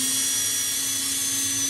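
A hone spinning inside a TH350 transmission governor bore gives a continuous high-pitched whine with a steady tone, close and even throughout the short stretch.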